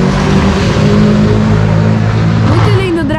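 Dragster race car engine at a drag racing event: a loud, continuous deep roar with rumbling low tones throughout, under people talking nearby.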